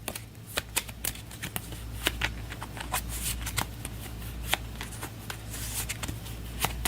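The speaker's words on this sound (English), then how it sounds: "We'll give these a quick shuffle" A deck of Astro Knights board game cards is shuffled up close, a quick series of crisp riffling snaps and soft slides lasting several seconds.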